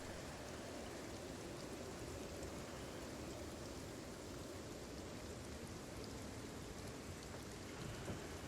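Pouring rain in a survival video game, a steady dense patter and hiss of heavy rainfall throughout, fairly faint and even with no voices.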